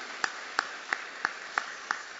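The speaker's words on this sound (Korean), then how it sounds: "그렇게 하신 우리 하나님께 박수로 감사하겠습니다." Church congregation at a Sunday morning worship service clapping in unison to thank God, six evenly spaced claps about a third of a second apart, faint and a little distant.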